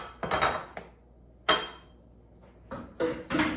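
Cake batter for a lemon blueberry bundt cake being mixed in a bowl: a few loud, close clinks and scrapes of a utensil against the bowl, in irregular bursts separated by quiet pauses.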